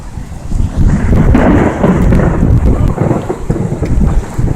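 Thunder from a lightning storm over North Carolina rolls loud and close, a long sustained rumble with cracking peaks, rain hissing beneath it and no voices.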